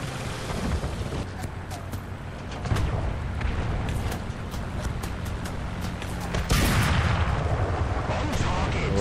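Rocket fire and explosions in the War Thunder video game, with repeated sharp blasts and booms, a heavier hit near the end, and speech over the top.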